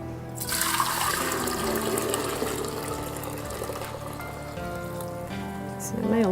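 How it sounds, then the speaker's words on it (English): Tea poured into a glass cookie jar while making kombucha, a steady close liquid stream running continuously from about half a second to the end, with a brief clink near the close. "And then I'm just going to pour the tea in the cookie jar."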